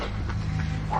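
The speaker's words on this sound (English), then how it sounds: "Is that a dog?" A dog barks a few times at a distance outside a house, its muffled yips half-buried under steady low background rumble.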